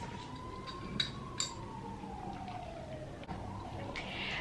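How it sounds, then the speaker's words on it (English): A distant ambulance siren wails with a slowly falling pitch, faint and steady under background town street noise, with a few brief clicks. "Ambulance."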